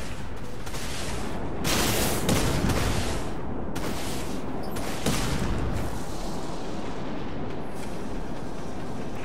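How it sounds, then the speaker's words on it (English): Vulture missiles launching in the space combat game Dreadnought, heard as a dense, continuous roar of rapid blasts and booms with brief louder surges, loud and close. "Launching Vulture missiles."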